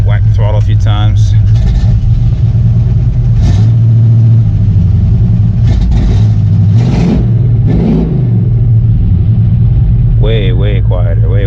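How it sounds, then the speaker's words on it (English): A car engine fitted with a Flowmaster muffler and Heddman headers, not yet up to temperature, idles with a deep rumble and is revved in several sharp bursts. People talk over it at the start and end. "Whack the throttle a few times."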